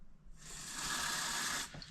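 A tap is turned on for drinking water and runs in a steady, fairly close hiss for about a second and a half before shutting off, with no one talking.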